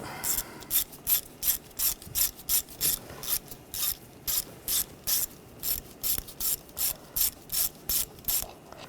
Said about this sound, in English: Now using a 8mm socket, take this screw out.